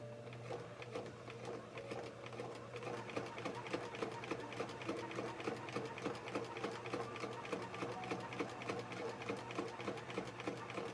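A sewing machine stitches a line of thread, its needle chattering in a steady rapid rhythm with a constant motor hum, close and continuous throughout.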